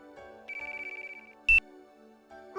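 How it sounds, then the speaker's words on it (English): Electronic phone ringtone from an incoming call, a short run of bright repeating beeps followed by a sharp burst, sounding close and alone with quiet background, no talk over it. "Oh, someone's calling? It's not my phone."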